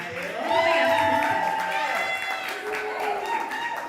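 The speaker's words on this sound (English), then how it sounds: "So clap her all the way up to the stage" Audience at a live evening show claps and cheers as a poet walks up to the stage, a swell of applause and whoops at moderate distance, with a host's amplified voice talking over it.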